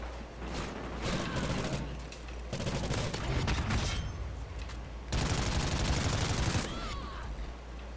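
Rapid automatic gunfire in a gun-game shooter, coming in dense bursts separated by brief lulls, loud and close with some game noise in between.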